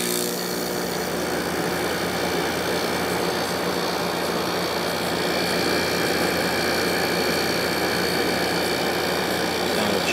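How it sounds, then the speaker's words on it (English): A Samsung 6300 BTU air conditioner compressor runs with a continuous, steady droning hum and vibration, even and fairly loud throughout with no talk. "Sounds just like the other Samsung compressors that I have."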